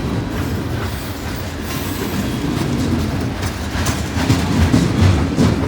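A heavily loaded freight train hauling rock cars behind three new locomotives rolls past on a snowy hill grade, a loud, steady rumble with rhythmic wheel clatter and faint squeal close by.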